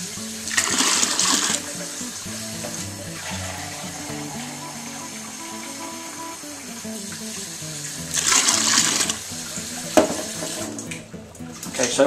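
Water pours and splashes into a beer brewing kit's fermenting vessel in bursts, a tap-like rush that surges, eases and surges again nearby, with no talking.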